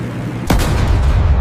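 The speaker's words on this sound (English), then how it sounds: "Flak, hundreds of radar-guided guns, capable of filling the sky with hot jagged metal in seconds" Flak anti-aircraft guns firing at bombers over wartime Germany: a sudden loud burst after a brief lull, then a sustained rumbling barrage of heavy gunfire and low booms that keeps going.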